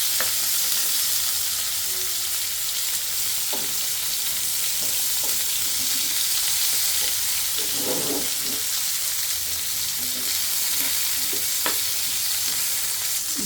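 Eggplant frying in a pan after a tempering of black cumin (nigella) seeds, giving a steady, close sizzle throughout with occasional stirring clinks and scrapes; no talking.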